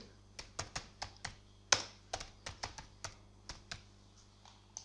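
Keys on a computer keyboard are tapped to type a new name for a virtual printer in Windows: about a dozen quiet, uneven clicks, close and alone.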